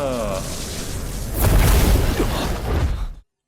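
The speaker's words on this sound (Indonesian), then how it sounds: "Ledakan dahsyat mengguncang seluruh alam dewa." A huge explosion as a character blows himself up in an animated fantasy battle: a loud, broad blast erupts about a third of the way in and rumbles on heavily, over a busy background that may include voices.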